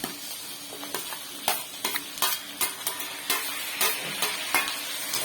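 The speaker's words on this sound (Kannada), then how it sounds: "ಈಗ ಇದಕ್ಕೆ ಹೆಚ್ಚಿರುವಂತ 2 ಟೊಮೊಟೊ," Two chopped tomatoes go into a frying onion masala in a pan, followed by a steady sizzle and repeated scraping strokes of a spoon stirring, close and fairly loud, with no voices.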